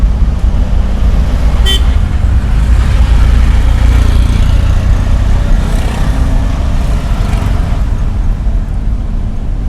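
A car on a driving lesson in Sylhet gives a steady, loud engine and road rumble for the whole stretch, with a brief horn-like toot early on.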